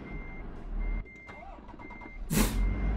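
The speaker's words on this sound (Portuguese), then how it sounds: "O caminhão deu ré sozinho." Truck reversing beeps from the driving game Euro Truck Simulator 2 sound as a steady, evenly spaced high electronic tone repeating over a low engine rumble, ending with a sharp hiss like an air brake.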